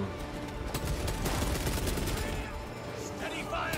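Heavy bolter gunfire in the video game Space Marine 2: a dense, sustained roar of rapid heavy shots that barely lets up, loud and continuous across the whole stretch.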